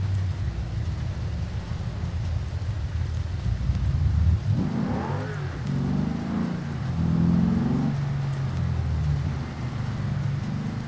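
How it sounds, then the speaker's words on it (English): Steady rain in the BeamNG driving game during career mode, a continuous broadband hiss on surfaces, with a car's engine and road rumble swelling in the middle and toward the end. "the rain kind of dies down so we can do the mission without having to worry about the rain here"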